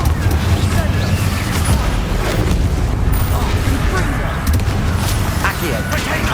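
Explosive Confringo spell blasts in Hogwarts Legacy, a dense, booming roar of detonations and crackling fire that runs continuously through the scene under ongoing speech.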